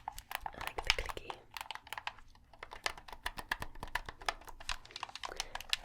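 Rapid, irregular clicking of Xbox controller buttons, close and fairly quiet, in dense bursts of crisp plastic clicks.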